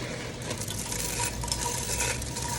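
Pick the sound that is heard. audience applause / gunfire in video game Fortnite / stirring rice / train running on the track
stirring rice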